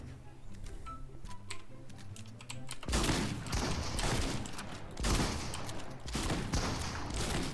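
Shotgun blasts in a Fortnite 1v1 fight, several loud shots in quick succession after a quieter stretch of clicking, with the gunfire dense and sustained through the second half.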